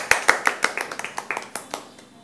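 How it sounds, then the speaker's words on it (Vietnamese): A few people nearby clap in a quick, even rhythm, with about a dozen crisp separate claps that slow and fade out after two seconds. "Cho một tràng pháo tay nào"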